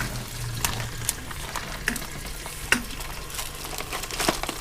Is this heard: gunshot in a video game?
no